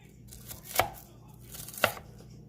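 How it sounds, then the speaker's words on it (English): Two crisp knife strikes through an onion on a cutting board, spaced about a second apart, close and distinct over a quiet kitchen background. "that's pretty much how we're going to chop up the onion"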